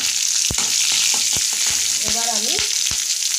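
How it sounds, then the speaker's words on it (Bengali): Radhuni seeds and green chillies sizzle in hot oil with a steady bright hiss, broken by several sharp pops and spatters. A short voiced sound rises briefly near the middle. "এবার রাঁধুনি আর কাঁচা লঙ্কাটাকে ফোড়ন দিয়ে দিলাম"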